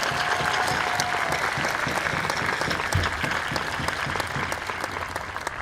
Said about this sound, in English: Can we give a round of applause today for all of our student and staff speakers?